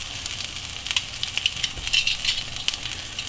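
Blackened salmon sears in a very hot pan, a steady close sizzle and crackle of frying with scattered sharper pops, running alone without talk.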